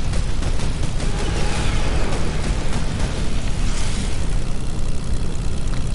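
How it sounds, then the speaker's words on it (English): Rapid gunfire from an aircraft in a video game rattles over a dense, steady engine drone, with loud bursts and booms running the whole time and no voices. "Can you hear my shooting?"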